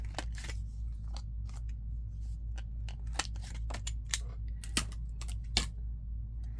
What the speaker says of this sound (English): I'm going to round out my corners on the card